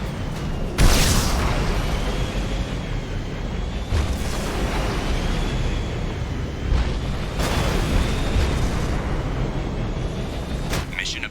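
Guided missile explosions from a fighting vehicle in the video game Mass Effect 2, heavy booming blasts bursting repeatedly over a continuous rumbling engine bed at steady loudness.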